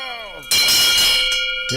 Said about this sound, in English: We ring the bell of love.